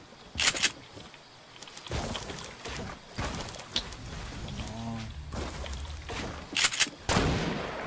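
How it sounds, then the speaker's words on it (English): Sniper shots and gunfire in Fortnite during squad play, several sharp cracks spread across the stretch, with one early, a pair late and softer shots between, over busy game sounds. "Oh shit, someone sniped me."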